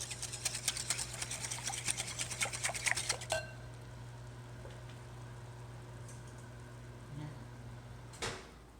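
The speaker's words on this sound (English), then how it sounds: "I like to do my eggs and my heavy cream together first. Giving that a quick whisk." Eggs and heavy cream are whisked together in a bowl, a rapid, close burst of rhythmic clicking for a few seconds that then stops, followed by quiet kitchen handling and a light knock.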